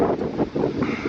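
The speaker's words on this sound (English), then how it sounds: "that wind is so bad for so long" Strong gusty wind blows around an abandoned cement-built house, buffeting the microphone in loud pulsing roars over a short stretch.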